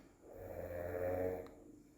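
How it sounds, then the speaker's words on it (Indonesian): A sleeping person snores once in a deep, drawn-out breath, a close, rumbling rattle that swells and fades over about a second in a quiet room. "ada yang ngorok guys, tidurnya nyenyak banget"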